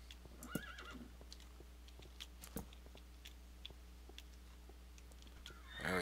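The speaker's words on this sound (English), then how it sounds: "Darn horses, stop knocking me around" Horses in the modded Minecraft video game, a faint whinny and a few soft clip-clop and chewing clicks over a steady low hum, quiet and sparse.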